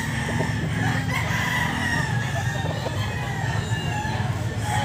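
Roosters crowing amid a loud, busy crowd of clucking chickens at a market selling gamecocks, with constant noisy background chatter and activity throughout.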